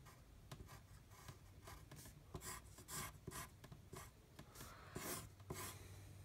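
A pen or pencil rasps and scratches across paper in repeated short strokes while a lightsaber is sketched for a comic book, close and steady with brief pauses between strokes.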